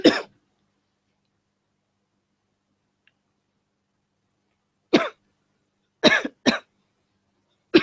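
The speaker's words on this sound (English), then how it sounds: "Excuse my coughing, guys." A person coughs during a live investigation: one cough at the start, then a long silence before a cluster of three or four sharp, close coughs and a final one at the end. No talking.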